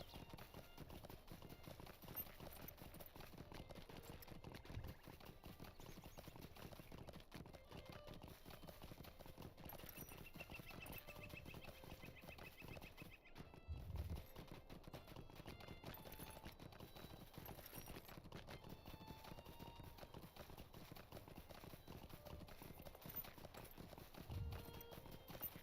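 Horse hooves clip-clop steadily while riding through the Shire in the online game Lord of the Rings Online, a continuous rhythmic trot under game ambience and faint background noise.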